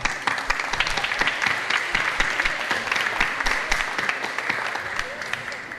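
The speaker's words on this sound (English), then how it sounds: "So I think we should give that a round of applause." Audience applause at a Shanghai Expo photo exhibition event in Toronto, a dense, steady patter of many hands clapping that holds for about six seconds, with a faint murmur of voices underneath.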